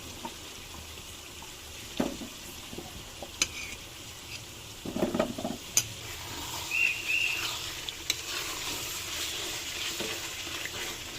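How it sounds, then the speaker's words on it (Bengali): Steady sizzling of potatoes frying in a pan on a stove, broken by occasional scrapes and clinks of stirring; no one speaks. "এদিকে এই চুলায় আমি আলু ভাজা করে ফেলছি।"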